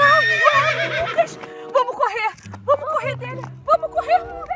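A horse neighs and whinnies repeatedly in high, wavering calls close by, with hoof clip-clops and excited voices talking over it in a playful setting.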